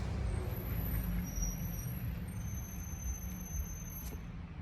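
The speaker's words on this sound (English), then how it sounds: "Let this truck go by." A truck passing outdoors produces a steady, loud low rumble of road and engine noise throughout, with faint high squeals above it.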